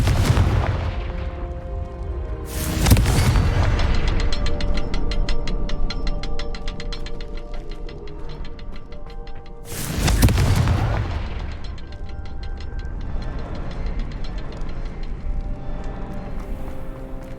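Two heavy blasts from the Confringo explosive spell in Hogwarts Legacy, a fantasy video game, each a loud broadband boom about seven seconds apart over a steady game soundscape with a lingering ringing tail.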